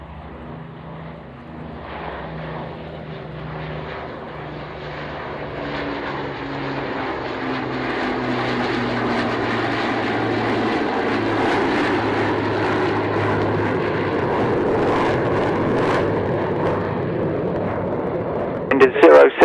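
A Dambuster flight aircraft passes at an air display, its propeller engine drone swelling from distant to loud and then holding as a heavy rumble, with radio voices talking over it.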